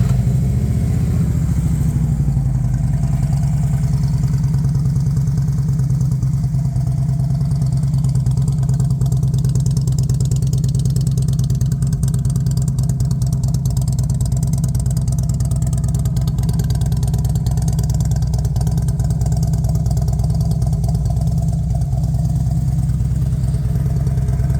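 A 2011 Harley-Davidson Road Glide Ultra idles steadily, a deep, loud, continuous low rumble close by that runs unchanged throughout with no talking.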